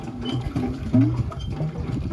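Rhythmic mechanical creaking and squeaking of a manual well hand pump, needing no petrol or electricity, being cranked close by, with one louder squeal midway and no speech.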